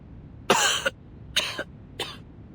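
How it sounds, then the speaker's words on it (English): Three separate coughs from a character in the video game Reverse: 1999, the first longest and harshest, followed by two shorter hacking, spluttering bursts, with no talking in between. "And now I cough and splutter just like it does."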